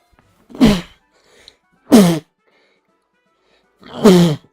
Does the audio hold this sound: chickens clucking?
no